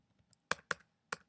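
Keys on a computer keyboard struck while setting up an MLA document, a few faint taps then three crisp close clicks in an uneven rhythm, with no talking.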